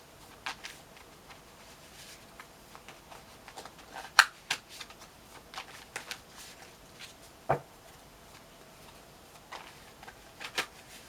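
Tarot card decks are shuffled and handled, with soft riffles, flicks and taps scattered irregularly over a quiet room.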